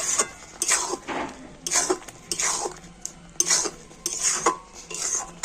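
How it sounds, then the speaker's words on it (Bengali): A spoon scrapes and clinks around a pan as tomato pickle is stirred with roasted spice mix, in repeated close strokes with short pauses between them. "ভাজা মশলা দিয়ে আবার একটু সবকিছু ভালো করে নাড়াচাড়া করে নেব"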